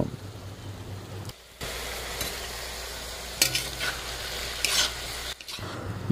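Paneer and banana flower being stirred in a pan, a scraping, sizzling fry that sounds close and moderately loud, broken by short pauses and a few louder clatters of the spoon against the pan.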